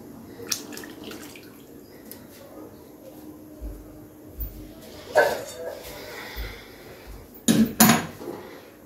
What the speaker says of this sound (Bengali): যেই পাত্রে আমি ডালটা সিদ্ধ করে নিয়েছিলাম সেই পাত্রটা ধুয়ে সামান্য জল দিয়ে দিচ্ছি